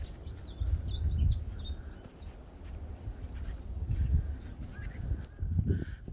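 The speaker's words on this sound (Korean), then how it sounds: "산님들이 안 계시니까 새소리가 너무 잘 들리네요." Birds chirp and trill in scattered bursts along a quiet spring mountain ridge trail lined with azaleas, faint and somewhat distant over soft footsteps and rustling.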